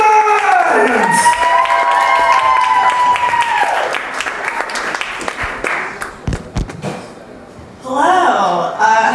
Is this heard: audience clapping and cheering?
yes